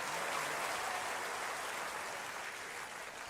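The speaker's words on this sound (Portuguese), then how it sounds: "Aplauda a Deus por isso." A congregation applauds during a church sermon: a steady, dense wash of clapping that fills the whole stretch, holding at an even level and easing slightly toward the end, with no voices standing out.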